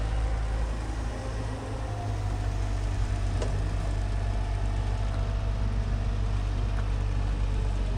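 A tractor engine runs steadily to drive a water pipe at a construction site, a continuous low rumbling drone heard up close throughout with no talk.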